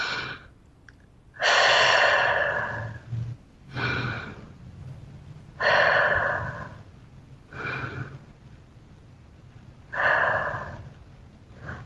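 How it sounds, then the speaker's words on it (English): Three deep breaths taken slowly during a mindfulness practice: soft, breathy inhales and long exhales, close and quiet, evenly spaced with pauses between. "take 3 deeper breaths"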